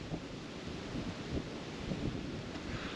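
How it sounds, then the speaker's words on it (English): Constant rumbling wind noise buffeting the microphone, steady and fairly loud, with no voices. "So it's very windy this morning as well."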